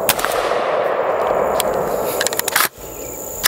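An AR-15 firing to empty a magazine, a rapid dense string of loud close shots that cuts off abruptly near the end, followed by a quieter tail.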